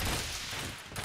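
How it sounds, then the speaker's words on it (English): Video game gunfire aimed at the floor above: a quick, dense burst of rapid shots crackles loudly for about a second, with no talking. "Wait, can I shoot the floor above me? Oh, I can! Yeah, I'm just shooting the floor above me."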